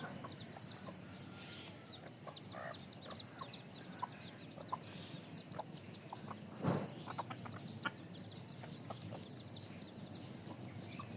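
Native desi chickens raised on a rooftop cluck and murmur in a steady low chatter. Sharper calls and a brief rustle break through it now and then.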